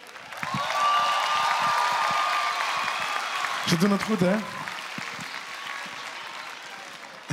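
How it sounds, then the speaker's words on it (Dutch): Audience applause for a children's choir at a Kinderen voor Kinderen show, moderate and sustained, with a brief spoken remark over it and a bright tone running through the first part. "dus applaus voor deze kinderen."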